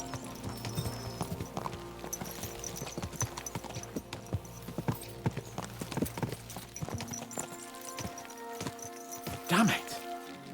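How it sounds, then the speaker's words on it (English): Horses' hooves clip-clop steadily in Kingdom Come Deliverance II, a brisk ongoing rhythm of hoofbeats on a road, with occasional snorts and a voice talking over the riding. "Let's really spur these horses on, eh?"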